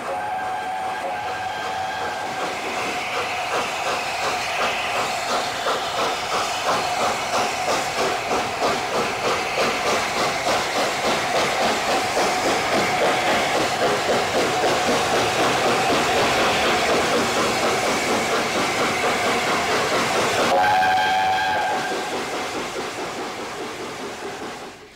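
LNER Class A4 steam locomotive 4468 Mallard hauling a train, heard as a loud, continuous rhythmic chugging with a sustained whistle-like tone. Near the end the beat softens and fades slightly.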